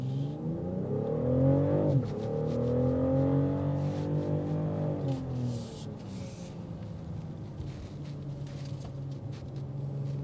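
BMW X6 xDrive40i, an all-wheel-drive SUV, accelerating hard on a test drive: a loud engine note rising in pitch, dropping briefly at a shift, climbing again, then settling into a steady cruising drone with road noise.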